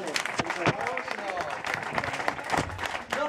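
Audience at a magic show breaking into an ovation, with scattered clapping and crowd noise mixed under a presenter's voice, fairly faint and busy throughout.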